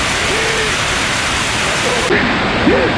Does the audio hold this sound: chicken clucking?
no